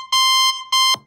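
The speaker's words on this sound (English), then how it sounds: "you can actually customize the alert tone" Anchor alert app alarm tone playing on a phone: two loud, piercing electronic beeps in a repeating pattern, close and alone.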